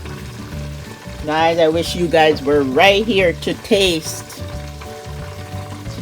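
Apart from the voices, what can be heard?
chicken and sweet potato frying in oil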